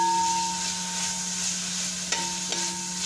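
Onions sauté in a pan for chicken biryani, giving a steady, even sizzle throughout with a couple of faint scrapes of stirring near the end, no voices.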